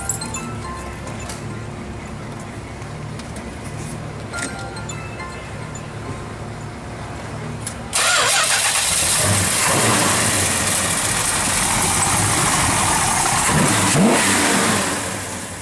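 A 1969 Road Runner engine idles quietly, then fires up with a sudden loud roar and keeps rumbling strongly up close before easing off.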